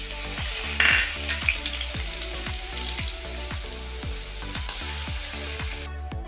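Mustard seeds, cumin and garlic-ginger paste fry in hot oil for a corn poha chivda, a close, steady sizzle punctuated by a regular series of spoon taps and stirring knocks.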